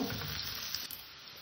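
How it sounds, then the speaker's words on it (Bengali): Small diced carrots frying lightly in a pan for a pasta dish, giving a soft, fairly quiet, continuous sizzle that fades slightly over its short length. "গাজরটাকে আমি একটু হালকা করে ভেজে নেব।"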